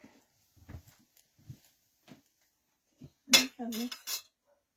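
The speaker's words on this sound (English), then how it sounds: "Just stirring up the hot cocoa." A stir stick stirs a mix of coffee and hot cocoa in a cup, giving a short run of bright clinks and scrapes near the end after a few faint, soft knocks.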